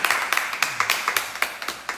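A small group claps hands in quick uneven bursts, sharp close slaps repeating through the whole moment, with faint voices underneath.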